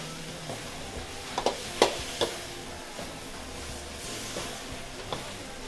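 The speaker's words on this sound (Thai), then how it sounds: "เราผัดให้ข้าวแห้งไปเลยนะคะ" Soaked rice vermicelli noodles stir-fried in a pan give a soft continuous sizzle, with a few sharper scrapes and clicks clustered near the middle as the spatula moves them.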